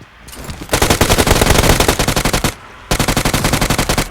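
Automatic gunfire rattles in a video game, two long loud bursts of rapid evenly spaced shots separated by a brief pause.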